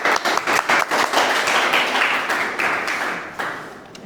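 A room full of people in a university classroom applauds after group presentations, brisk clapping that builds, holds, then fades out.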